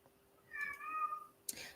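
A cat gives one drawn-out, upset meow, close and clear, rising and then trailing off, followed by a brief knock near the end.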